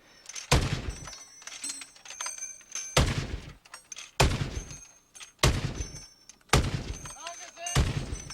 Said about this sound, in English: This rare revolving cannon has 5 37-millimeter barrels, capable of firing 43 rounds a minute